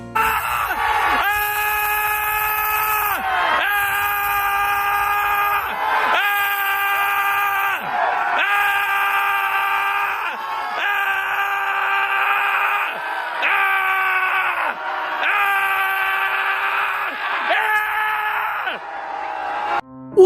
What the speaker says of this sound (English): A bunch of fully grown adults going out into a park to scream their frustrations